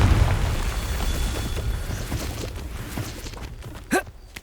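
Confringo fire spell in Hogwarts Legacy: a dense rumbling blast that fades over a few seconds, followed by a short sharp whoosh-pop near the end.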